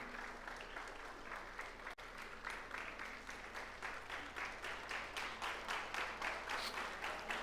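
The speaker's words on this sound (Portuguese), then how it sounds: "Fique de pé no nome de Jesus e aplauda ao Senhor" Sustained applause from a large church congregation, dense clapping that swells slightly and continues steadily throughout.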